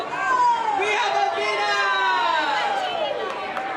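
A lively crowd at an Oktoberfest contest beside the Boomtown Bar keeps up a steady, close roar of cheering, whooping and shouting voices for the whole stretch, with no single voice standing out.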